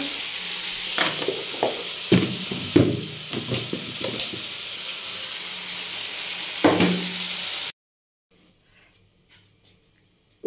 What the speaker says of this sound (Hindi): तड़क दी है मैंने तड़का लगा दिया सब्जी में